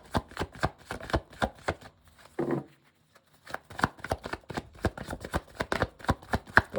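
Tarot cards are shuffled in quick crisp riffles and taps, a rapid series of flicks with a short pause midway, close and clear.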